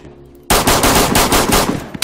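Rapid automatic gunfire in the survival shooter DayZ, aimed at a building's top floor: a sharp burst of closely spaced, loud shots firing in fast succession for about a second and a half.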